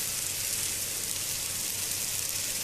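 Ragi chilla batter sizzling on a hot pan, a steady, close, bright crackling hiss with no pauses.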